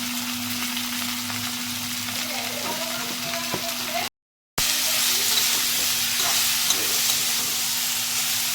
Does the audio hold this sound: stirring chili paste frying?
yes